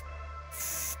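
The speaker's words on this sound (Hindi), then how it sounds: "उसके बाद आपको 10 से 12 इंच की दूरी से मूवमेंट में स्प्रे करना है।" PU top coat white spray paint hissing from an aerosol can held about a foot from a Hyundai car, one short steady burst under a low background hum.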